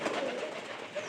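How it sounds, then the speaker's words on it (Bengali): Pigeons coo close by in a soft, low, warbling murmur that runs continuously through a brief moment. "খুব ডিস্টার্ব করছে কবুতর"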